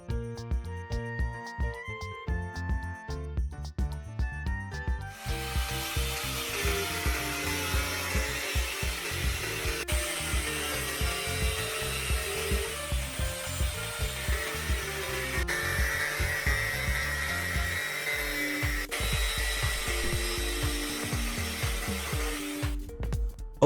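A power tool cuts PVC pipe steadily for a long stretch, a loud continuous buzzing rasp, with background music playing throughout.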